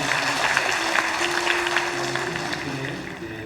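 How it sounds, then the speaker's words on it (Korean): Church congregation applauding a missionary after a sermon, a dense, steady wash of many hands clapping together, close and continuous without pause. "귀한 말씀 전해주신 우리 선교사님께 큰 박수로 함께"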